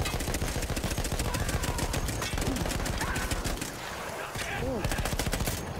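Rapid automatic gunfire from the video game Battlefield 1 rattles in dense, loud bursts that run nearly unbroken, dipping briefly before resuming amid a busy battle mix.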